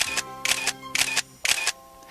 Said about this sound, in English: At the touch of the shutter release, the FG's microcomputer brain automatically calculates the correct lens opening and shutter speed simultaneously.